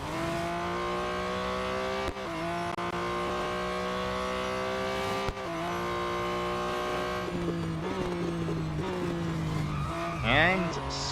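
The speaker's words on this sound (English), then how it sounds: "skidding all over the place" A race car in the BMW M Hybrid V8 racing game skids repeatedly, its tires squealing over a steady, loud engine drone, with a rising whine near the end.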